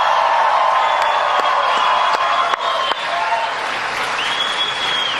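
An audience applauds military spouses at a public event, with steady sustained clapping from a large crowd, a few sharper claps and a faint whoop rising above the wash.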